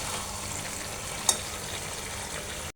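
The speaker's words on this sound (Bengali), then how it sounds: "রুই মাছ ভেজে নিচ্ছি।" Rui fish pieces frying in oil in a pan, a steady soft hiss and crackle with one brief sharp pop midway, cutting off abruptly at the end.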